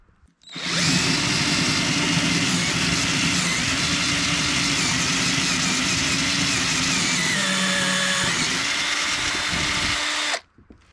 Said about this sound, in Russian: Теперь возьму сверло побольше, на 13.